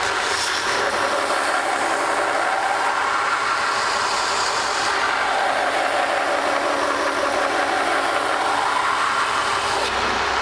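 A knife blade is pressed against a powered grinder at a knifemakers' grinding session, producing a continuous harsh, hissing whine that swells and eases in long waves.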